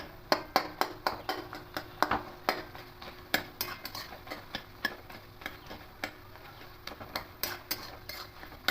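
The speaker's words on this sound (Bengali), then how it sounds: "তাই একটু আলুগুলোকে কেটে দেবো" A spatula chops potatoes in a pan of bitter gourd and potato chorchori with mustard paste, making rapid repeated sharp taps against the metal over a faint sizzle.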